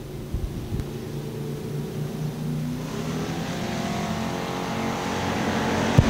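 IMCA Hobby Stock race cars in a heat race at Thunder Hill Speedway, engines droning and revving steadily as a pack, growing slightly louder toward the end with no talk.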